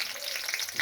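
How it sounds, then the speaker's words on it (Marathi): Finely chopped green chillies fry in hot oil with a brief, close, busy sizzle and crackle, heard alone. "मिरच्या तळून घेऊ पूर्ण"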